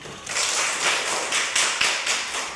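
Students clapping in a classroom: a burst of many hands beating together in a quick, roughly rhythmic pattern with regular accented pulses, close and fairly loud, starting just after a brief quiet moment and carrying on steadily.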